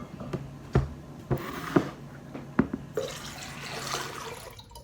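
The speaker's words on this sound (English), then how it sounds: "we would like to add our water to the collective bowl" Water poured and splashing into a shared bowl during a water sharing service, a series of distinct drips and splashes followed by a brief softer trickle, close and fairly quiet.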